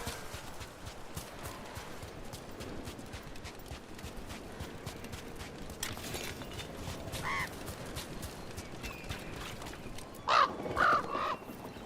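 Crow cawing in the Dragon Age: The Veilguard video game: a couple of sharp, fairly close caws near the end over quiet ambient game sound, with footstep-like clopping earlier.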